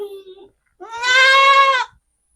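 An Etawa or Jawarandu goat in heat gives one long, loud, wavering bleat lasting about a second, close by, after a short burst of a human voice.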